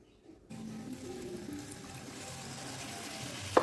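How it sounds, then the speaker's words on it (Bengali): Water poured into spice paste in a cooking pan while making a potol (pointed gourd) curry, a steady close trickle and sizzle running evenly from start to end with no talk. "তো এর মধ্যে এখন একটু জল দিয়ে দেব।"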